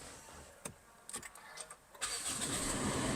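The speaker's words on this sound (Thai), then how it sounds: "สตาร์ทเครื่องยนต์ให้ฟังกัน" Engine of a 2018 Toyota Altis 1.6G starting up: a few faint clicks, then the starter catches around two seconds in and settles into a steady, close idle.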